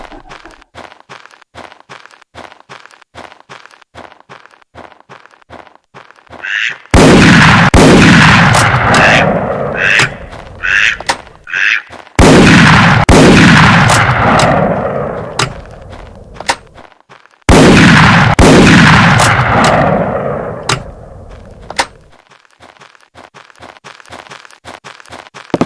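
Gunshots in Bird Hunter 2003 waterfowl hunting video game, several heavy booming blasts with long rolling echoes, preceded by quick soft rhythmic tapping.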